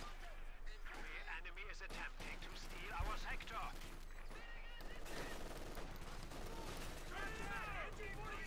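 Dense artillery and small-arms gunfire rattles through a Company of Heroes 2 match, a steady barrage of shots with one sharp louder blast, running under continuous talking.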